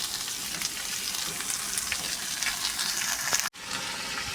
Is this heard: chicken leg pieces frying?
yes